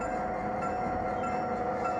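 A model train locomotive rumbles steadily as it pulls away, with a constant mechanical hum and faint tonal whine throughout.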